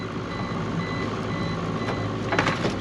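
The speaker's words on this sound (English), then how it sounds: "That depth alarm can be annoying sometimes." A depth alarm on a lobster and crab fishing boat beeps in a fast, regular series over steady engine and sea noise, growing a little louder near the end.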